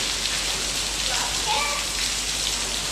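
Steady rain falls close by in the open, a dense continuous hiss of drops on surfaces with no break, loud and even throughout.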